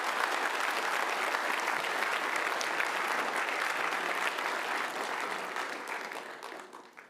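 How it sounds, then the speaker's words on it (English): Audience applause for Year 12 students at a school presentation night: a dense, steady round of clapping from a large crowd that holds level, then tapers off toward the end. "Year 12s, if you could give them a round of applause."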